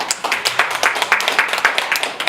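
An audience applauding, with a quick run of overlapping hand claps that holds steady for a couple of seconds at a moderate, close level.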